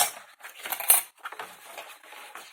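Scissors cutting a strip of kraft paper, a series of close crisp snips and rustles in short irregular bursts with brief pauses between cuts.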